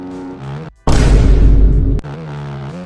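A motocross bike in a racing video game roars past at close range, a loud engine blast of about a second, framed by lower engine drone on either side.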